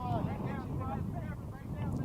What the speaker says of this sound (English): it is quite windy down there on that field